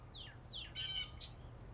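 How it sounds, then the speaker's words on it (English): Several small songbirds of two or three species chirp and twitter at bird feeders in quick succession, a few short calls and a squawk, fairly faint over low background rumble. "you're hearing at least 2 to 3 different species of birds."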